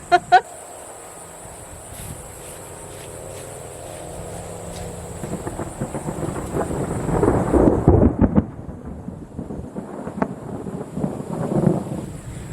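Thunder rolls through a storm arriving over a homestead, a deep rumble swelling midway and again near the end, with wind noise and some speech over it.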